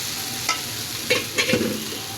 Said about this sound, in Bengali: শিমলা ভাজবো